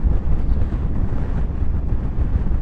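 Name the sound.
strong wind blowing into the microphone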